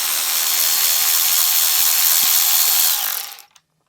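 A power tool loosens a bolt on a car window motor assembly, giving a loud, steady, close whirring buzz for about three seconds before it stops abruptly with no talking.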